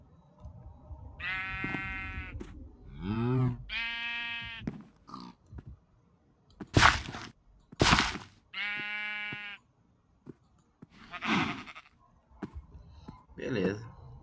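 Sheep in a block-building survival game bleat repeatedly, several harmonic bleats spread across the stretch, some clear and close, with a person talking between and over them.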